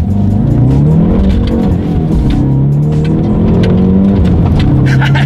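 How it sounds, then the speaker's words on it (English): A 2019 Hyundai Veloster N with a manual gearbox accelerating hard, a loud rasping exhaust note rising and falling through gear changes, recorded from inside the cabin with no talking. "The exhaust note is ridiculous."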